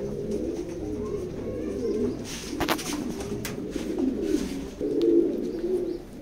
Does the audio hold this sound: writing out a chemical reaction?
no